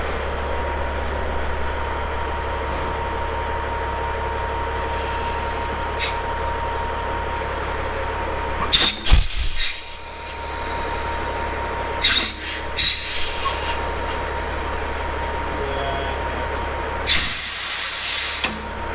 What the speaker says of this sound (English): This one is leaking air